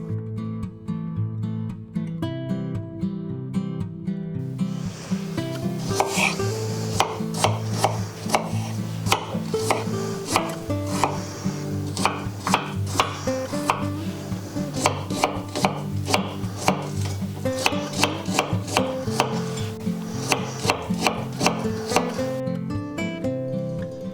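A knife chops ripe apples into cubes on a board, striking in fast, steady, close and crisp cuts over background music.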